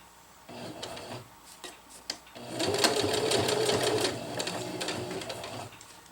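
Sewing machine locking a stitch while sewing a zipper onto jungle hammock fabric, first a few short clicks and brief runs, then a steady close whir of stitching, with a voice talking quietly at times.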